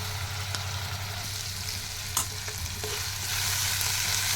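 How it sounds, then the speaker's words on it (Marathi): Chopped potato frying in a pan with onion and tomato: a constant sizzle with a few scraping stirs of a spoon, close by and without speech. "बटाटा छान परतून झाल्यानंतर"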